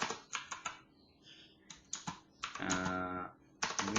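Fingers type on a computer keyboard in short bursts of quick, close key clicks, pausing between runs, with a longer continuous flurry of typing in the middle and no voices.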